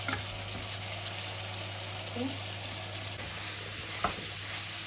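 Chicken and broccoli stir-frying in a pan, a steady broadband sizzle holding throughout with a brief clatter of stirring near the end, fairly close and alone.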